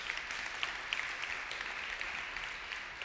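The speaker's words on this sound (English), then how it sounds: "a couple of claps" Conference audience at PyCon 2015 giving a smattering of claps, a dense, even patter of hands sustained throughout, fairly distant and moderate in level.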